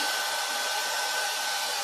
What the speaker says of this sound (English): So we get the blow dryer, and all we're doing is just blasting